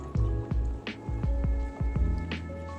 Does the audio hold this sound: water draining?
yes